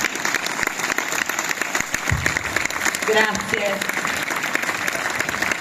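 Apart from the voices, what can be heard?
audience applause at memorial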